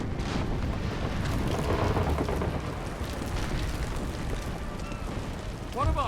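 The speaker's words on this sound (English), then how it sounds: "We're gonna try to avoid getting caught in this explosion." A ship exploding in a naval battle in Napoleon: Total War, a deep rumbling boom and roar of cannon fire and debris filling the scene, with a voice talking over it.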